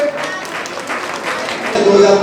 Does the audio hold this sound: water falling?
no